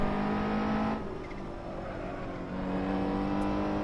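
A GT3 race car engine in the Assetto Corsa racing game drones with a steady tonal hum, briefly easing off then rising again as the car accelerates.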